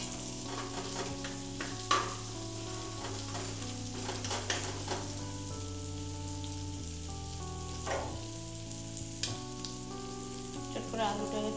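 Food sizzling and being stirred in a hot pan, with steady frying crackle, utensil scrapes and clinks over a continuous low background hum, no voices.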